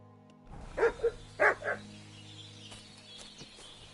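Dog barking in Kingdom Come: Deliverance II, a handful of quick, loud barks in two bursts, then quieter game ambience with no talk.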